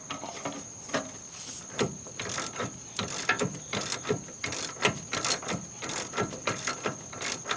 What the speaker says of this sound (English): So the first thing we're going to need to do here is just remove that bolt.